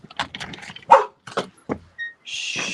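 A dog barks a few short, fairly close times, with sharp yips mixed in, followed by a brief higher whine or electric hum.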